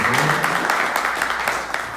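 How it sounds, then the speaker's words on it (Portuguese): Crowd applause during a sales training event for cruise qualifiers, a steady wash of clapping throughout, fairly loud and close, with a few voices cheering inside it. "Uma salva de palmas para todos que qualificaram para o cruzeiro."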